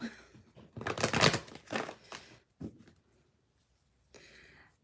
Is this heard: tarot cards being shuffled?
yes